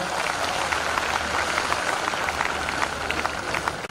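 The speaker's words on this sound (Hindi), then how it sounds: "एक बार जोरदार तालियां आप दिनेश के लिए बजा दीजिए" An audience at a Hindi kavi sammelan in Gadarwara applauds poet Dinesh Bawra, a continuous wash of many hands clapping at moderate level, steady from start to finish with a low hum beneath.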